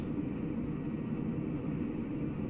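Continuous rumbling roar of an F-104 jet engine just after coming out of afterburner in Flight Simulator 2020, steady and broadband with no voices over it.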